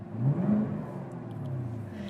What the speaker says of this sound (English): number 5 on the list is the sounds that this car makes between the supercharger and the exhaust